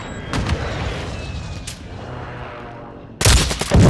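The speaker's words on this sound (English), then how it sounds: "Did you get the sniper shots at us?" Sniper shots ring out in a shooter video game: a few sharp, distant reports, then a louder, closer burst near the end.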